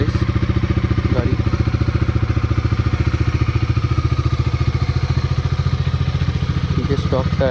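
A Bajaj Dominar 250 motorcycle idles close by with a steady, rapid thumping engine pulse that holds even throughout, while someone talks over it.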